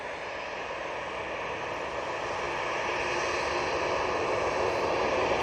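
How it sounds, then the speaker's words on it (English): A KLM Embraer E175 arriving from Amsterdam Schiphol at Manchester Airport gives a continuous broadband jet roar that grows slowly louder as it approaches. "Next in is KLM Embraer E175 coming in from Amsterdam Schiphol."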